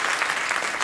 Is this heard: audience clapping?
yes